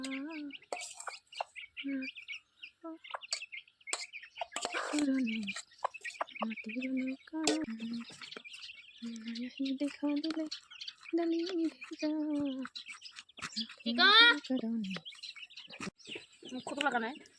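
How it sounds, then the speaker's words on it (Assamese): A kengkolong bird calls in a series of chirps, tweets and squawks, near and fairly loud, while it eats ripe jujube fruit, with people talking intermittently across the scene. "এইটো কেংকলং চৰাই দেই, এইটো পকা বগৰী খায়"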